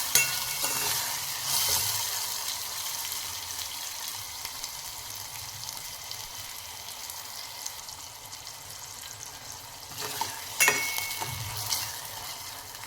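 Chopped tomato and onion are sautéed and stirred in a pan for a farsan vegetable dish, with a steady close sizzle and scraping stirs that briefly swell louder near the end.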